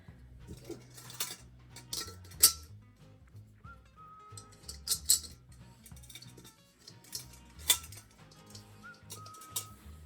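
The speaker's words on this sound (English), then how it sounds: "So I'm going to just tighten that and then put this back on again" Small metallic clinks and taps while a fitting is tightened during assembly of a 12-inch LeFroom charcoal grill, a handful of sharp close knocks scattered among quieter handling sounds, no voices.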